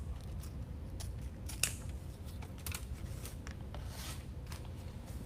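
Scissors trim the greenery tails on a grapevine wreath with repeated crisp snips and rustles, close and moderately loud, with no talking.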